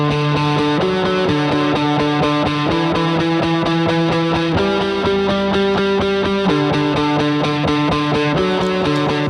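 A distorted electric guitar through the Neural DSP Cory Wong amp plugin plays a repeating chord pattern. Its notes trail into tap-tempo delay repeats that blur into a steady, loud wash.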